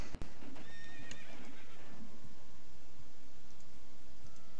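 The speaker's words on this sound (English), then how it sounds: "His horse has returned." In the online sailing game Uncharted Waters Online, a horse gives a short whinny and then clip-clops at a steady pace, fairly close, with no talking.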